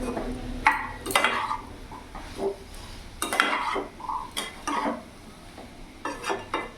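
Kabuli chickpeas being stirred with chana masala in a pan, irregular scraping and clinking of a spoon against metal with a faint sizzle underneath, close and moderately loud, no talking.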